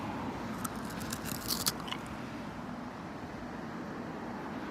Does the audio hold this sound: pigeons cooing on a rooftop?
no